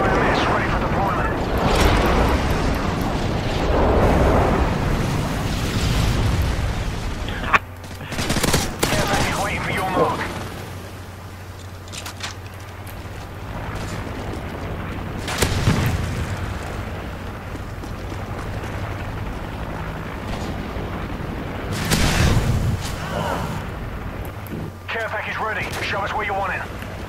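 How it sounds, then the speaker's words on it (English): Airstrike explosions in a Modern Warfare 3 online match, heard as several deep booming blasts spread through the clip among gunfire and game announcer callouts, with players talking over the action. "Friendly airstrike on the way."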